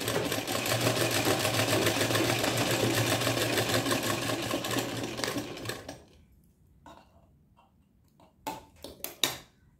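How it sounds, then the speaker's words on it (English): A sewing machine stitches a straight plain seam, running steadily and rapidly for about six seconds before stopping, followed by a few sharp clicks and handling sounds. "stitch a straight line"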